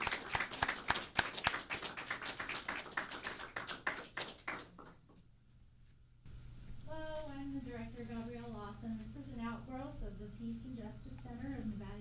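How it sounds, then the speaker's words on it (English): An audience at a live Earth Day event in Nevada City, California gives the Peace Choir a lively round of applause, brisk close clapping that fades out before the choir starts singing. "Nice round of applause for the Peace Choir"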